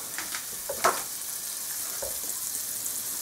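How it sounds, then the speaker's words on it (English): A tablespoon of butter melts in a pan, giving a soft, steady sizzle with a few faint clicks and taps, quiet and close with no talk. "I'm going to put the butter in there, that's a tablespoon. I'm going to melt it in there"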